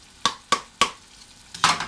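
Seasoned meat in a frying pan being stirred, a spoon knocking the pan in four sharp, evenly spaced clinks over a faint sizzle, close and alone with no talk.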